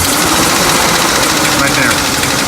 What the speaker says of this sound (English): Okay, that's kind of like a sharp metallic noise right there.